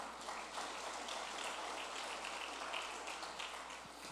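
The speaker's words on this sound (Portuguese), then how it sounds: "As palmas para ele." Applause from a church congregation, a steady dense patter of clapping held at an even level throughout, fairly faint and distant, with no voices over it.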